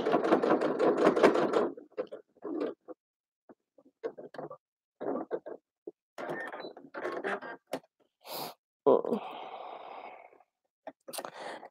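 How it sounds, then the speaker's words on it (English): A sewing machine runs a holding stitch in short bursts of rapid mechanical whirring and clatter, starting with a longer run then stopping and restarting repeatedly, with brief pauses and breathy sounds between. "I don't need to backstitch this part at the moment. It's just basically a holding stitch."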